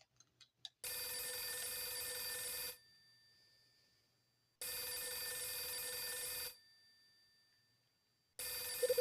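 A telephone rings in the video game Last Window, set in December 1980: two long, loud electronic bell bursts separated by a pause, then a third ring beginning, with a few soft clicks before the first ring and no talk.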